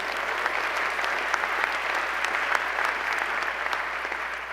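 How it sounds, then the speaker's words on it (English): An audience at a university state-of-the-address event claps continuously, a dense, even applause that fills the hall with no voices over it. "You can give the chair a round of applause"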